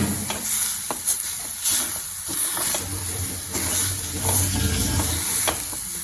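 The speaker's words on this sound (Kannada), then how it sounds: "ಆಮೇಲೆ ಅರಶಿನ ಹಾಕ್ಬೇಕು ಸ್ವಲ್ಪ, ಚೂರು ಬ್ರೌನ್ ಕಲರ್ ಬರೋವರೆಗೆ ಫ್ರೈ ಮಾಡ್ತೀನಿ." Grated coconut dry-fries in an oil-free pan with turmeric for a chicken curry, a dry hissing crackle with steady scraping stirs, close and fairly loud throughout with no talking.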